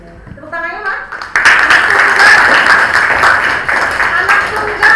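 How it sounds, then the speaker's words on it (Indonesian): A school student-council candidate event audience bursts into loud applause partway through, sustained clapping filling the rest; a voice is heard briefly at the start before the cheering swells. "Tepuk tangannya, Mak."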